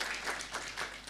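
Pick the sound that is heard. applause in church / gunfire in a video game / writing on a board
applause in church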